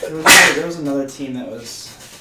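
A single sharp sneeze bursts out near the start, loud and close, followed by someone talking right after it.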